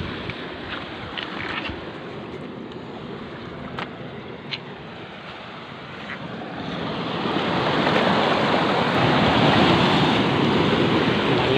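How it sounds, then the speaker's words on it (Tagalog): Ocean waves wash in on a shore at low tide with a steady hiss and roar, swelling louder in the second half, mixed with wind buffeting the microphone. "Alon."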